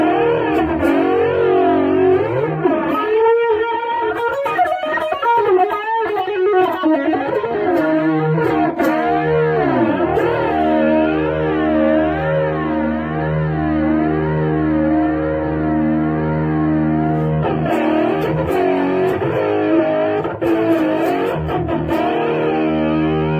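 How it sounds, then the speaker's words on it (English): Electric guitar played through the phaser effect of a Sonicake multi-effects pedal, sustained chords with a sweeping, swirling whoosh cycling up and down, some strummed attacks early and mid-clip, loud with no talk. "Let's do a little phaser."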